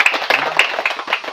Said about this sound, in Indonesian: Lebih baik kita tepuk tangan.